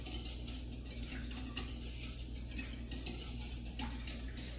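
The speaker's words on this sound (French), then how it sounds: "je vais brasser le tout pour mélanger mes ingrédients humides" Wet muffin ingredients are stirred in a bowl, a soft continuous scraping and clinking of utensil against the bowl under a steady low hum in a kitchen.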